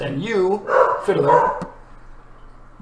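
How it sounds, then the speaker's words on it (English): A dog gives a short burst of whining yips and a bark close by, mixed in with people talking during a casual indoor game segment. "That was the dog."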